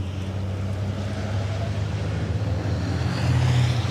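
A racing truck at the Misano circuit holds a steady low engine drone through a long left-hand corner, heard at a distance with a continuous rumble that swells slightly near the end, with no talking.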